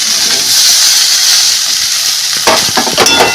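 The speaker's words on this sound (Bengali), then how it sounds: "আমি আস্তে আস্তে কষাবো যাতে এঁচড়টা ভালোভাবে সিদ্ধ হয়ে যায়" Jackfruit and potato curry fries and sizzles in a pan, a steady close hiss with stirring clinks and scrapes toward the end, loud and without speech.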